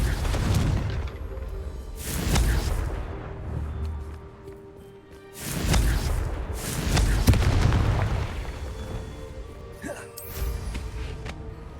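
Fiery Confringo spell blasts in a wizard-school video game, several loud booming explosions with whooshes, each followed by a fading rumble between bursts.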